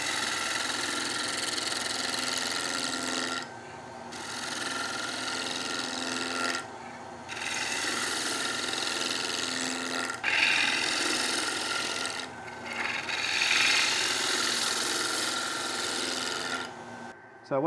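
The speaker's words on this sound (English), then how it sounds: "Get the old 19 mil woodcut tool out, 55 degree bevel." A 19 mm gouge with a 55 degree bevel cutting a square wooden bowl on a lathe, a continuous rasping cut over the motor hum, broken by several short pauses where the tool lifts away.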